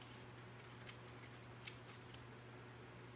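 Scissors make a series of soft, close snips through paper as a note shape is cut out in a paper craft, faint over a low steady hum, with no talking.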